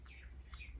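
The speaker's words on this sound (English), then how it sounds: "now there's a bunch of birds" Birds chirping outdoors, two short bursts of bright tweets at low level, quiet and somewhat distant, with no voices.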